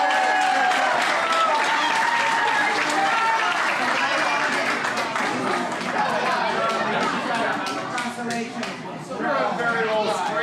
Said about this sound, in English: Clap for these boys!